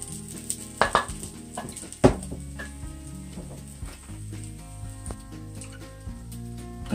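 Butternut squash fritters fry in a pan with a steady oily sizzle, close and moderately loud, broken by a few sharp clatters of utensils.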